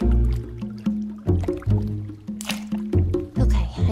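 Splashing and sloshing in pond water, a series of irregular wet slaps and drips, close and fairly loud, in a cartoon setting.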